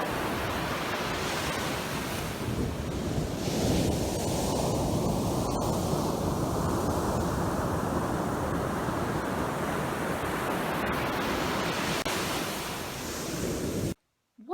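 Ocean surf roars continuously, waves washing and hissing in a broad steady rush for over ten seconds before cutting off abruptly.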